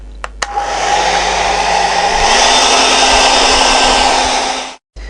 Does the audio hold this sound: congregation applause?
no